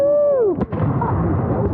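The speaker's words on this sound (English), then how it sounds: "I'll fire when you fire, Larry." A single close musket shot at a Revolutionary War reenactment battle, a sharp bang followed by a rolling, fading report, heard just after a whistling tone cuts off.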